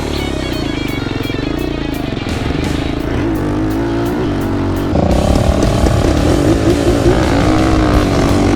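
Raptor and Predator quads roar together in a roll race on a track, with loud, sustained engine revving close by that jumps even louder partway through.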